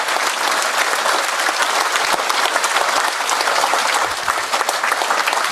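An audience at a public speech claps loudly and continuously, a dense, even wash of applause from many hands lasting several seconds.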